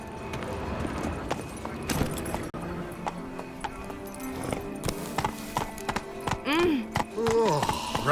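A horse's hooves clip-clop at a gallop in The Witcher 3: Blood and Wine, beating rhythmically under game music and effects, with a brief whinny and some voices near the end.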